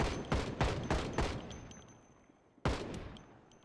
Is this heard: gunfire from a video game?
yes